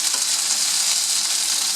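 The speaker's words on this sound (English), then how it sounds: "All I'm doing now is stir frying my bok choy" Bok choy stir-frying in a hot pan, a loud, steady, close sizzle with no breaks.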